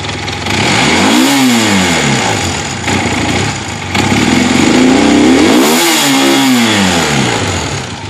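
A 1980 Honda CB400 motorcycle engine runs close and loud, idling with two clear revs that rise and fall, the second one stronger, then settling back to a steady idle.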